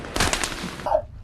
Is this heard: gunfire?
yes